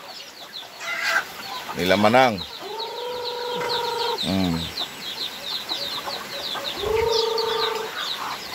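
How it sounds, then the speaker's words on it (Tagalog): Chickens cluck and call close by amid farmyard chatter, with a couple of longer drawn-out crowing calls and a person speaking briefly. "Daming manok oh."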